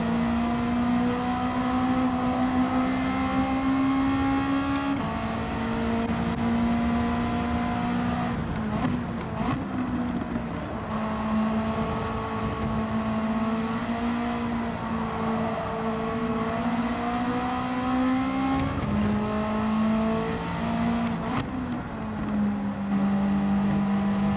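Group A race cars, including a 1983 Toyota Corolla, lapping Spa in a three-hour race, engines droning loud and steady with rising and falling pitch through gear changes and a brief dip near the middle, no talk.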